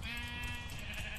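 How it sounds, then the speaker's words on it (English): A sheep bleats in a video game, a single close, loud, wavering bleat that fills the short moment, with no speech over it. "Here's some more sheep."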